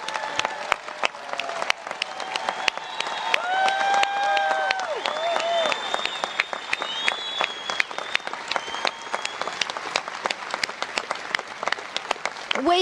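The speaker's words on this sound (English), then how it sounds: "let us give you a round of applause" A crowd honoring veterans and guardsmen at a Tennessee 225th anniversary celebration applauds steadily with dense, continuous clapping, and occasional cheers and voices rise above it.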